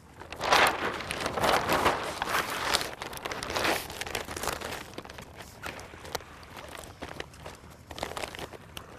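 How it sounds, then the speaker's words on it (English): The sail of a Sea Eagle SailCat inflatable catamaran is furled, giving crinkling, rustling fabric sounds with some crunchy handling and shuffling, louder at first and then softer, close by and with no talking. "For temporary storage, you can furl the sail."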